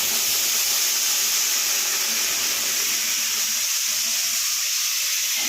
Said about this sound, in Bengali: আর একটু ভাজা ভাজা হলে তারপরে দেব গরম জলটা